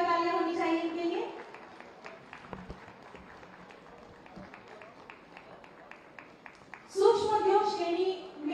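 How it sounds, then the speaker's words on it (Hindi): Audience applause at an award ceremony for Uttar Pradesh Diwas in Lucknow, where trophies and certificates are handed out. Modest, scattered clapping fills a gap between an announcer's speech before and after. "जोरदार तालियां होनी चाहिए इनके लिए।"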